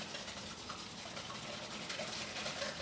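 Hot pasta water poured into eggs while they are mixed for carbonara, a steady close liquid wash and gush running without pause, fairly even in level throughout.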